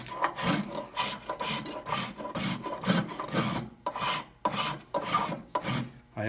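Spokeshave shaving wood on a cat boat half hull template, a steady run of close, raspy strokes with brief pauses between them.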